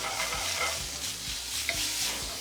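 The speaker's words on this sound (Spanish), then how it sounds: "Una última salteadita." Chaufa fried rice being stir-fried in a pan over heat, a steady sizzle with rhythmic scraping and tossing strokes of the spatula, close and continuous.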